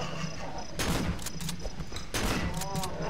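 Gunfire in the co-op horror video game Cry of Fear comes as two loud bursts of rapid shots about a second apart, with mechanical clicks between them and a steady background hum throughout.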